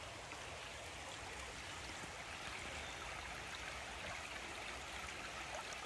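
Shallow, low creek water flows over rocks at Kelly's Run in summer, a steady, soft, close rushing babble that continues unbroken with no voices.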